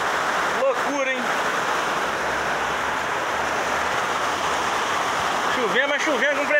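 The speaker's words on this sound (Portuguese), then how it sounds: "Chovendo, mas chovendo com pressão mesmo." Heavy rain pours in a storm in Miraí, Brazil, with water running across the street and over the sidewalk as a loud, constant rushing wash. Brief bits of voices or other sounds break through near the start and the end.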